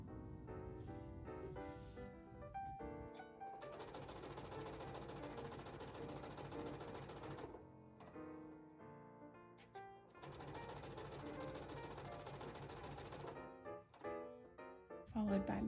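A sewing machine chain pieces quilt squares with a quarter-inch seam, running in two sustained bursts separated by a pause, with soft talk and background sounds around it.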